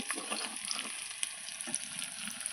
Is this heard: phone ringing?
no